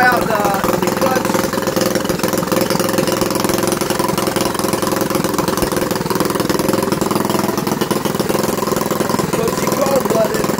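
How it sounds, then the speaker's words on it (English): A go-kart engine runs with a steady, loud mid-pitched chug, like a small mower-type motor. The go-kart has a patched-up clutch that is still cold. "I'm going to take the go-kart out for a little ride. Try out the clutch."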